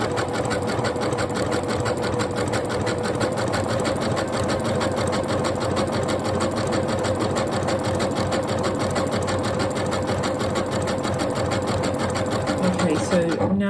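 A Janome Horizon Memory Craft 9480 QC Professional sewing machine runs steadily at close range, stitching a tapering stitch with a constant rapid mechanical whir and knock, while someone talks over it.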